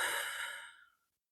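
A single deep exhaled breath during a slow yoga session, a soft airy sigh that starts full and fades out over about a second, close and alone.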